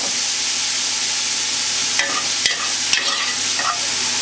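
Vegetables for fresh tomato pasta sauce sweat in a very hot pot over an intense flame, a steady loud sizzle with a few soft stirring scrapes.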